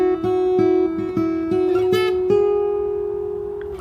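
A fingerstyle acoustic guitar picks the verse melody alone, a short sequence of clean plucked single notes close to the mic that settles into one long note fading out.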